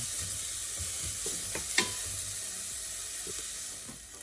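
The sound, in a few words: shallots sautéing gently in a pan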